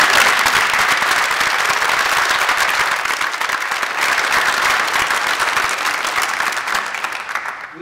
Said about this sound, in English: I want you to give our donors a round of applause